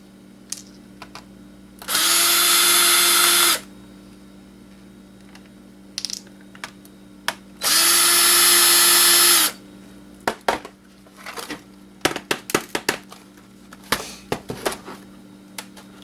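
An electric screwdriver removes screws from an old laptop, with two long whirring bursts of a couple of seconds each, followed by a scatter of sharp clicks and small taps from handling the screws and casing.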